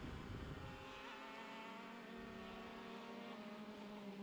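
A racing gearbox kart engine on track at Sydney Motorsport Park, a distant, faint, steady high-pitched engine whine sustained throughout the clip.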